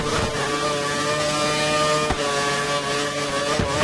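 A racing car engine in a video game, the XRL GP2 series at the Korea round, drones in a steady high whine with a couple of brief dips, loud and continuous without speech.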